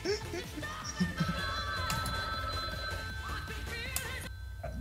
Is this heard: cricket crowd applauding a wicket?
no